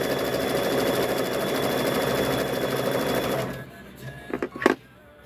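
A sewing machine stitches down a quilt block in a steady, fast, close run for several seconds, then stops, followed by a few brief clicks and handling knocks.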